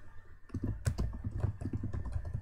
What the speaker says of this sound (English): So I'm typing on the screen while this is going on.